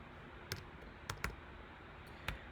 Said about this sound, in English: we're going to just actually type this out again